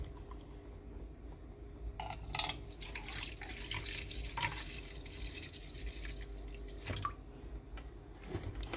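White vinegar is poured into a cooking pot while pickled eggs are made, a faint, thin trickle and splash of liquid that runs on and off against a quiet kitchen background.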